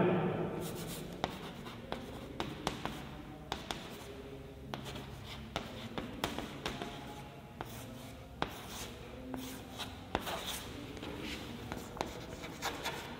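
Pen scratches across paper as an English grammar example sentence is written out by hand: close, soft scraping strokes broken by small taps and pauses, with no voice.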